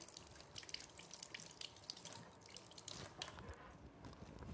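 Tap water runs faintly over a carrot being rinsed at a kitchen sink, a soft, steady trickle and splash.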